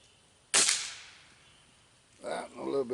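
A single sharp crack from a Gamo Whisper pellet rifle fired at a target, a bright sudden burst that fades quickly, followed by someone speaking.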